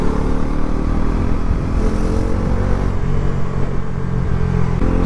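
A Bajaj Pulsar NS 400Z motorcycle being ridden, its engine droning steadily and loudly close to the microphone, with wind and road rumble throughout.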